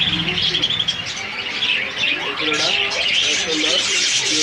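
Many caged birds chirping and tweeting at the crowded Mirpur 1 bird market in Dhaka, a dense high twittering with coos beneath, mixed with murmuring voices of people nearby.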